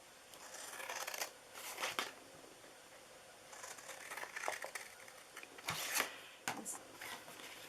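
Scissors snip through paper for a Christmas ornament box, sounding as quiet, close cuts in short bursts with pauses, some strokes louder and crisper than others.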